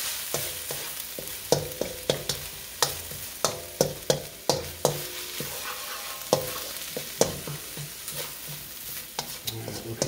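Red and green chili peppers and onions stirred in a hot pan: repeated scraping knocks of a utensil against the pan in an uneven rhythm, under a soft continuous sizzle, close up, with no speech.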